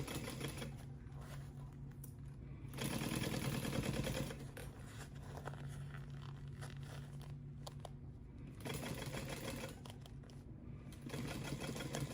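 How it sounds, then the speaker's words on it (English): A sewing machine stitches a convertible crossbody bag, backstitching at the start and end. The close, steady motor hum surges louder in several long bursts, and nobody talks. "make sure I back stitch at the beginning and at the end"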